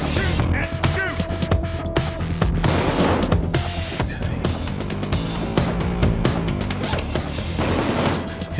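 Rapid gunfire bursts and booms from a Payday 2 nightclub heist on very hard difficulty, loud and dense throughout, layered over a busy background mix.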